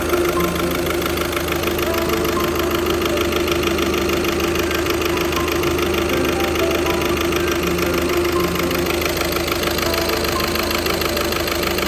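A car engine with a blown head gasket runs steadily with a rough, rhythmic knocking and vibration, loud and close, with no voices.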